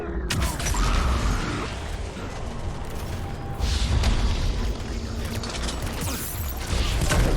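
Battle explosions in the video game Mass Effect 3 rumble repeatedly, several heavy booms rolling over a constant din of gunfire and mechanical clatter, loud and close.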